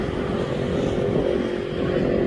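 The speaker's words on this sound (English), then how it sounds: "So this is Ethiopian's cargo's 777." A steady, loud engine roar from an Ethiopian cargo Boeing 777 at an airport holds constant with no breaks, a broad rumbling drone with a tonal whine on top.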